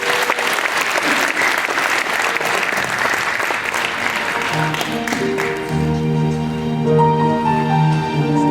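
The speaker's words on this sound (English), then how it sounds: "Would you give them an applause, please?" An audience at the Hamtramck inaugural ceremonies gives a dense round of applause that tapers off as sustained musical tones begin underneath and take over.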